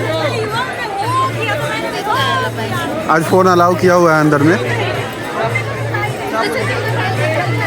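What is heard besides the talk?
crowd chatter at Ujjain temple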